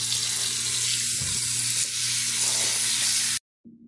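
Water runs steadily from a kitchen tap into a sink for soaking and washing raw chicken, a continuous loud hiss that cuts off abruptly near the end, followed by a brief faint trickle.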